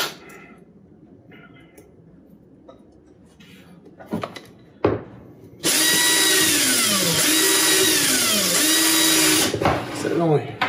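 A power tool cuts a small nub off a Bud 32026 Kulp K32 model kit part, a loud, steady whining grind starting midway and running several seconds, with faint talk and handling noises before it.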